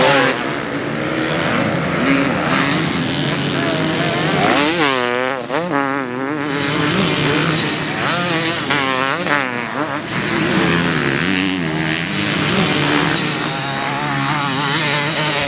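A 2024 KTM 300SX fuel-injected two-stroke dirt bike engine revs hard and close, its buzzing note rising and falling through repeated throttle blips and sustained high-rev runs, loud throughout with no talk.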